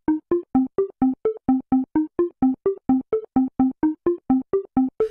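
Synthesizer lead patch playing a rapid arpeggio ascending through a few notes of a modal scale, short clipped evenly spaced steps repeating in a steady pulse, loud and close with no voice.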